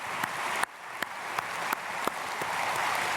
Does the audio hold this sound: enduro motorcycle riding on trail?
no